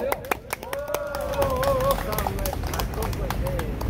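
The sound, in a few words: audience applause at a Gwanghwamun rally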